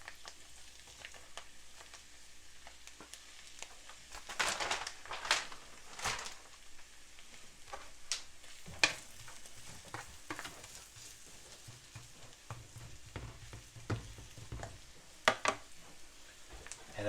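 Wild poke greens frying in hot oil in a pan, a soft continuous sizzle broken by louder scraping, stirring strokes at irregular intervals, close by and fairly quiet, with no talk.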